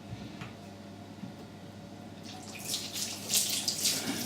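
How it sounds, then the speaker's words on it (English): A tap runs water over a removed part from a Bosch SM6P1B dishwasher during a rinse, starting with a low hum and swelling into a close, splashing gush in the last two seconds. "I'll just give it another good rinse out and see if I can get it any better."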